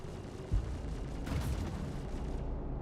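Main cannons firing in a space combat video game, heard as a dense, rumbling barrage of booming blasts with one heavier low thump near the start, loud and continuous without pause.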